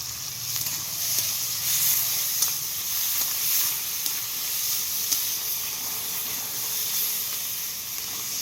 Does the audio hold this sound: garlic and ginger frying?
yes